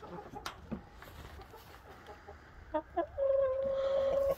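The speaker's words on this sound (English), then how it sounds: "there's the Brahma rooster coming out." A Brahma rooster clucks nearby, a few short calls followed by a longer drawn-out note, with faint farmyard background noise.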